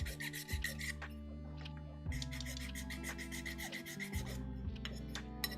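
Hand chamfering on a 3D-printed Voron V1 printer part, trimming brim edges: steady rasping, rubbing strokes in repeated passes, close and fairly loud, with no talking.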